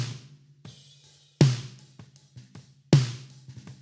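Snare drum playback with the EQ bypassed, leaving less low-end body around the shell: a few sharp, loud hits with quieter ghost strokes in between, played alone with no talking.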